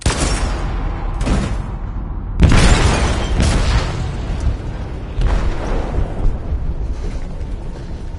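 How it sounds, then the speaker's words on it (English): An explosion in a ship's hold in the game Detroit: Become Human: a loud booming blast with rumbling debris and mechanical clatter afterward, followed by further heavy rumbles, with no talk. "They detonated an explosive in the hold"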